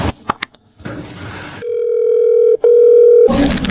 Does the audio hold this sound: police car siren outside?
no